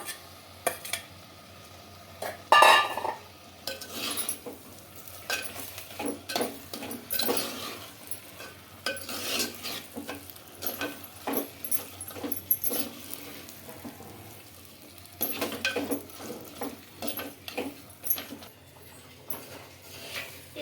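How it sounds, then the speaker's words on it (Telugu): Spiced chicken with salt and chili powder is stirred in a clay pot over a high flame, giving irregular scraping and clattering knocks of a spoon against the pot, with a louder clank near the start and no talking. "చికెన్లోకి మసాలాలన్నీ బాగా పట్టేటట్లు బాగా కలుపుకోవాలండి"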